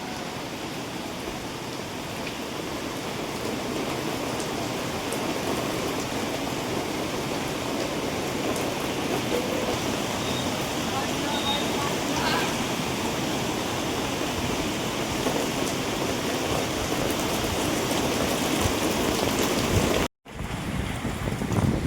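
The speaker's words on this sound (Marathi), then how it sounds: "तर मित्रांनो बघू शकता किती मस्त असा पाऊस पडतोय." Heavy monsoon rain pours down on a waterlogged street where vehicles are stalling, a steady, dense hiss that stays even throughout with no talk, then briefly cuts out near the end.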